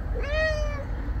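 A kitten gives a single rising-then-falling meow lasting about half a second, close and clear, with a low rumble of room noise underneath and no talking.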